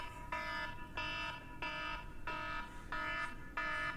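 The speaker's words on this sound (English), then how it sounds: "Will you shut that alarm up?" An electronic alarm goes off during a podcast, beeping in a regular pattern of about six loud tonal pulses, each lasting about half a second, evenly spaced and with no talking.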